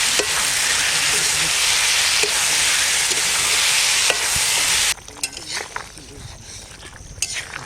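Cauliflower sautéing in a gravy for a desi catla fish curry sizzles loudly and steadily, then the sizzle drops away to the clinks and scrapes of a utensil stirring in the pan.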